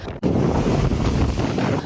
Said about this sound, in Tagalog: Malalakas ang alon sa karagatan.